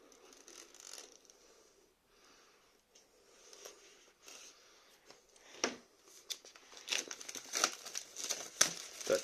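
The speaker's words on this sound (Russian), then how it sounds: "Так, пакетик удаляю." Plastic film crinkles and rustles as it is peeled off a new white Xiaomi Redmi Note 10S phone, quiet scattered crackles that build into denser, sharper crinkling toward the end, close and with no talking.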